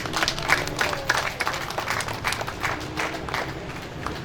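A crowd applauds at a pharmacy inauguration, with steady clapping that stays moderately loud for several seconds with small swells.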